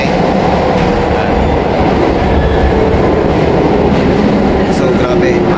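A train in Japan rumbles steadily from inside a carriage, a loud continuous roar of wheels and motion with faint rattles throughout.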